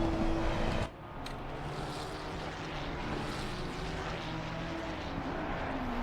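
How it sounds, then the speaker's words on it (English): GT3 race cars with V6 engines run at the Nürburgring in the Assetto Corsa Competizione racing game, making a steady, droning engine roar. The roar dips briefly near the start, then holds at a moderate level with no talk over it. "Ah, listen to those V6 engines."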